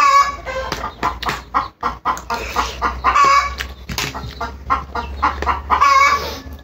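Chickens cluck close by in short, repeated bursts with brief pauses between them, loud against a low background hum.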